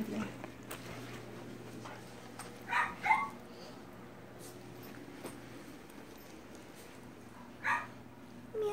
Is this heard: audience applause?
no